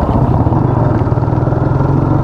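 A motorcycle engine idles close by with a steady, throbbing mid-pitched rumble, loud and continuous with no voices.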